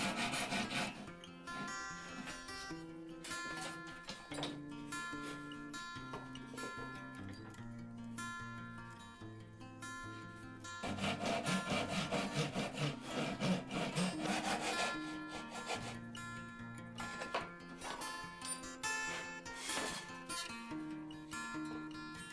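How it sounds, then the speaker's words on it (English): A hand saw rip-cuts through the board of a small wooden box held in a vise, its steady rasping strokes running under prominent melodic background music for the whole stretch. "I would rip cut all the way through the board that's facing the ceiling"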